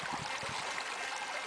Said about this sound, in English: I'm here on the tributary to the Klamath River.